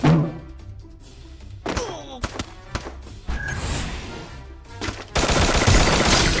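Gunfire in the Free Fire video game, with sharp single shots and short bursts spaced irregularly, ending in a sustained loud rattle of rapid fire, with someone talking at moments between the shots.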